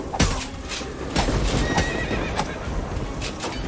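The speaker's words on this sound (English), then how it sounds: "So I heard a horse." A horse neighs and whinnies with clip-clopping hooves amid the busy clatter of Hellsplit Arena, a medieval combat video game, its calls rising over continuous background noise.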